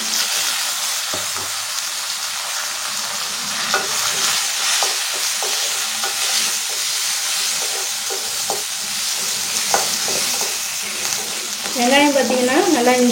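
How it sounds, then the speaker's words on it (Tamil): Loud, steady sizzling of chopped onions frying in hot oil, with occasional scraping stirs and a brief squeaky sound near the end; no speech. "நறுக்கி வச்சுருக்க வெங்காயத்தை சேர்த்துக்கோங்க."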